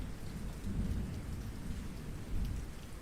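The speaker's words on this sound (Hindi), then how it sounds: "तभी बारिश ने छोटे बच्चे की तरह गले लगा लिया मुझे" Monsoon rain falls steadily with low rolling thunder, a dense continuous hiss of drops with deep rumbles swelling twice, heard from a balcony with no voices.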